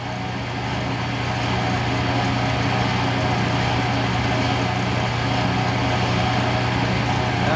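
Steady whirring drone of a wood lathe spinning a workpiece while a skew chisel cuts a fillet, continuous and fairly loud with a constant low hum throughout, no voices.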